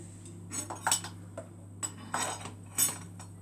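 A few light clinks and taps of dishes and cutlery as a plate is brought over and set down in a home kitchen while potatoes and wings are prepared, with brief scattered knocks and no speech.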